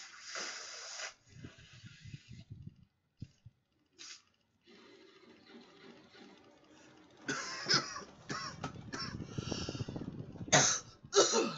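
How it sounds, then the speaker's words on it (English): A person blowing their nose close to a microphone, several rough bursts of nasal blowing and snorting with short pauses between them, getting louder toward the end. "I'm about to blow my nose."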